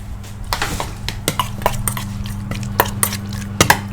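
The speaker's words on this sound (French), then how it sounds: "Vous mélangez le tout." Marinade with black pepper and crushed garlic being mixed in a bowl for Thai crying tiger beef, giving a run of close, irregular clinks and scrapes of utensil against dish over a low steady hum, with no talking.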